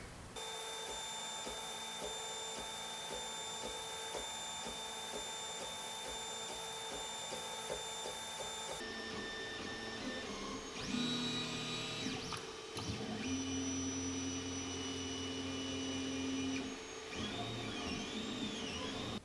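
A 3D printer runs steadily, its stepper motors whirring and humming in changing tones with occasional higher whines, continuous and close with no talk.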